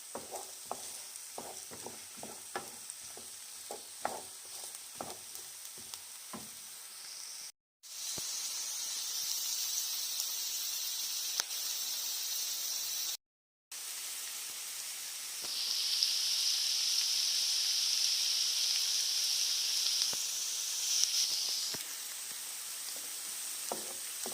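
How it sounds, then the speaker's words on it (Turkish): Onions sizzle and hiss in a pan over high heat while being stirred, with scraping stir strokes early on and a steady, moderately loud frying hiss that swells later, no voices. "Kuvvetli ateşte soğanları çeviriyoruz."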